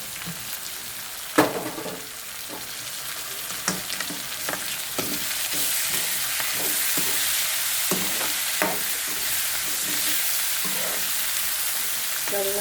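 Tomatoes frying in a pan, a constant sizzle under scattered scrapes and knocks of stirring, fairly close and with no talking.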